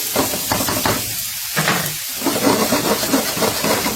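Green onion tops going into sizzling fried rice, a loud dense hiss of steam and frying close by, with a few knocks of a utensil against the cooking surface throughout.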